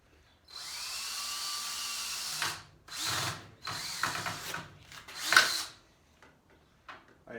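A drill drives cheap screws into landscape timber: four or five whirring bursts of a few seconds each, separated by short pauses, with ratcheting clicks, heard up close and alone.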